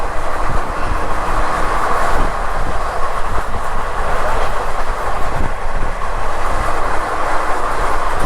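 The Kurla Express, a passenger train from Mumbai LTT to Shalimar Kolkata, runs steadily on its rails with a continuous loud rumble and faint rhythmic clicks of wheels over joints, heard from on board.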